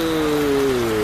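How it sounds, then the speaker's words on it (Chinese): Heavy late-night rain pours down over Hualien city as streets and arcades flood, a steady dense hiss of rainfall filling the scene with a faint low tonal hum beneath it. "大雨下个不停，花莲市区出现积水情形。"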